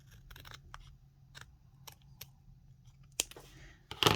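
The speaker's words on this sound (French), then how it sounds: "Et là, on va venir couper cette bandelette-là." Scissors cut a paper strip for a rotating card, with a series of small, close snips and paper rustles ending in a louder final cut.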